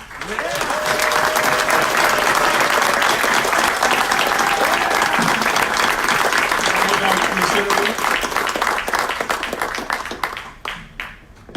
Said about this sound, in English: Let's give a round of applause to Diego Sotelo.